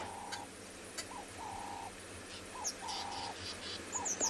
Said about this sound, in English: there's a Cape turtle dove in the background there too.